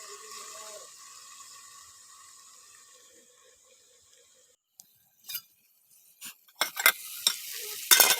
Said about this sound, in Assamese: মই 2-3 মিনিট এনেদৰে ভাজি থকাৰ পিছত পানী দিম।